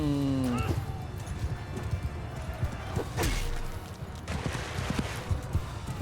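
Galloping horse archers' mounts pound along on a medieval battlefield in Mount & Blade II: Bannerlord, with a steady thudding of hooves under battle noise and a brief crash midway.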